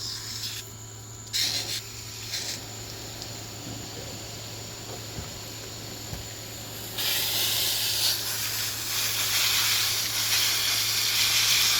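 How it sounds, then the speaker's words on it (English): A steady, broad hiss of water spraying from a hose while cleaning blue crab starts partway through and keeps going loudly, after quieter bursts of spray earlier. "the easiest way to do it is with a water hose"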